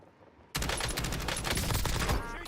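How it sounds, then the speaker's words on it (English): Dense, continuous video-game gunfire with rapid overlapping shots bursts in abruptly after a quiet half second and stays loud for the rest, a sustained barrage rather than single sniper cracks. "I'm getting sniped from behind."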